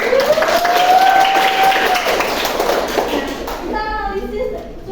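Classroom students clapping together during a practice lesson, a brisk burst of many hands that fades toward the end, with voices whooping and calling out over it.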